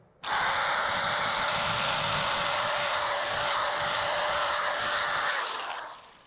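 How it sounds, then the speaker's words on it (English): An electric rotary tool with a sanding roll sands a hole during fuel system upgrades on a 400 small-block Chevy. It gives a close, steady high-pitched whine for about five seconds, then winds down. "I'm going to use a sanding roll to speed this process up."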